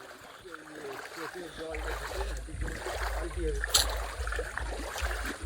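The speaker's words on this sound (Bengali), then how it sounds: "কি অবস্থা, জলের কি স্রোত।" Strong flood water rushes through a village, a steady, low, churning wash with trickles and splashes running throughout, and faint voices in the background.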